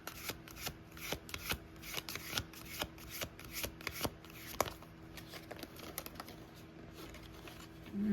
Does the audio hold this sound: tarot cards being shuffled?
yes